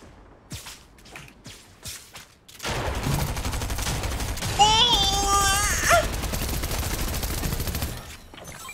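Tactical shotgun gunfire in the Fortnite video game: a few sharp blasts early, followed by dense game noise and effects, with voices chatting faintly.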